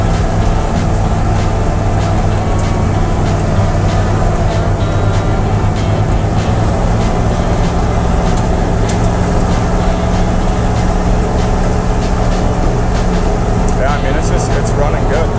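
A 1976 Dodge Power Wagon truck driving down the road on its first drive in 16 years, a loud continuous engine drone and road rumble inside the cab, with someone talking throughout.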